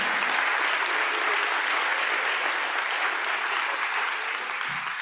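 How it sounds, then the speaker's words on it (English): Sustained applause from a Rotary Club weekly meeting audience fills the room, a dense even clapping that holds steady for several seconds before tapering slightly at the end. "would you mind giving a big round of applause to all of those folks?"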